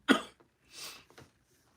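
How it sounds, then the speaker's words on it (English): A man coughs once, sharply and close up, then exhales with a breathy rasp and gives a smaller throaty catch, all alone in a quiet room. "As y'all can see, I'm still got this cough."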